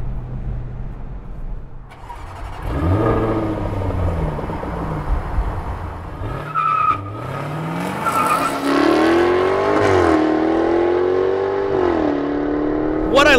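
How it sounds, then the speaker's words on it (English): A 2024 Jaguar F-Type Convertible P575 R75 with a supercharged V8 accelerates hard, its loud, close engine note climbing and surging through gear changes with no talking. "What I love about standing on the loud pedal of this F-Type is that it gives you a sense of how raw this F-Type is"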